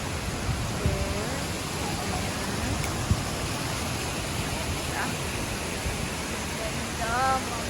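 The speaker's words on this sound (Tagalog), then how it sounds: "Ito na yung Dinagat Falls." Dinagat Falls rushes as a continuous broadband roar of falling water, steady and moderately loud, with faint voices and a few small sounds around it.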